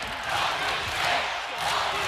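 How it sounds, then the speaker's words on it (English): Long Beach State fans cheer for their men's volleyball team during a close home match against Hawaii, a steady, dense crowd roar that swells and holds throughout with no clear voice rising above it. "The Beach faithful cheering their men's volleyball team on."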